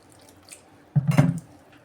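A short splash of water poured into a bowl of maida flour dough for biscuits, a brief burst of sloshing after a moment of near silence.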